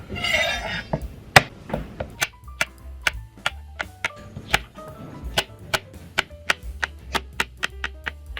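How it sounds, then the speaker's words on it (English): Repeated crisp knife strikes slicing okra on a cutting board, steady and fairly quick, close up with no talking. "I'm gonna go ahead and slice my okras."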